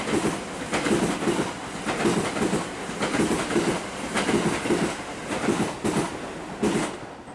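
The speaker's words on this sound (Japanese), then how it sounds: "反対列車の特急コウノトリ9号と行き違い待ち。" The Kounotori 9 limited express passes while a train waits at Genbudō station, its wheels beating out a steady clickety-clack of repeated rail-joint bursts at close range, with no talking.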